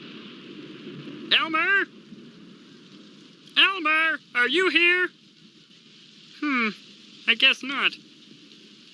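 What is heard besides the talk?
rain sound effect in puppet show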